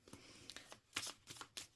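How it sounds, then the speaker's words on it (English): A mini tarot card deck is shuffled by hand, producing a quick series of soft, papery riffles and taps, about half a dozen bursts in under two seconds, faint and close. "These are always nice to shuffle."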